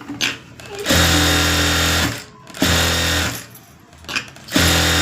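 A sewing machine runs in three sustained bursts while stitching folded skirt fabric, loud and close, with short pauses between runs and no talk.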